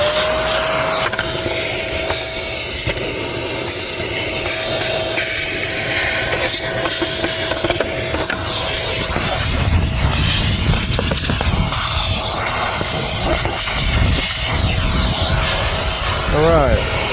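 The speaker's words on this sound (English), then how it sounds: "got my handy vacuum here, and let's go ahead and turn it on and just clear out the" A handheld vacuum runs steadily while clearing out the air filter housing of a Mercedes-Benz S560, a continuous whining hiss close up, with rustling and knocks as it works and someone talking over it.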